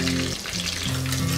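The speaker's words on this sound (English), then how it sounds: "Now while the second batch is frying" Chicken pieces frying in hot oil, in a second batch in a home kitchen, sizzling steadily and loud up close with a bubbling, crackling hiss throughout.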